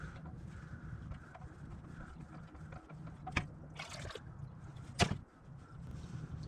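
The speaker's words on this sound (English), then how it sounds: "just let your oil filter drain the oil out of it" Motor oil trickles and dribbles from a removed 6.4L HEMI oil filter into a drain pan, a quiet steady liquid flow with a couple of brief clanks partway through.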